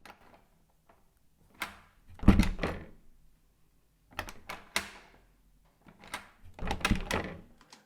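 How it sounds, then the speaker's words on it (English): Door-opening sound effects for a short film: separate creaks and thuds in short bursts, with quiet gaps between them and no voices. "This first one is just kind of the sound of like doors opening."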